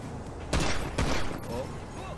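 Two loud gunshot bursts crack close together in GTA V during a Fleeca bank heist, each a sharp broadband blast with a short tail, over a background of game ambience and low murmur.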